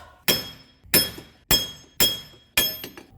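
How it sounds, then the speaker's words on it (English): Five sharp, ringing metallic strikes from a 4-pound sledgehammer hitting the rear wheel hub of a 2012 Subaru Impreza, spaced about half a second apart, loud and close with a brief clanging decay after each blow and no talk. "Time for a bigger hammer, boys and girls"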